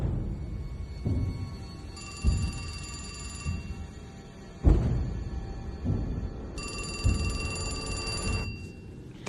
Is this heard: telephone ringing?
yes